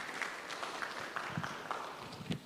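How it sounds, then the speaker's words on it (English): An audience at a leadership workshop claps, a short burst of scattered, moderately loud applause with irregular claps for about two and a half seconds. "Give a better applause, please."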